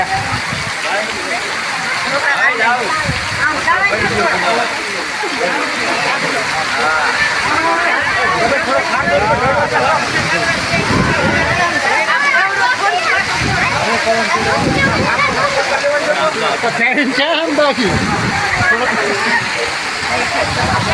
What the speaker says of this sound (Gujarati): આમ તો જો કેટલું બધું પાણી જાય છે.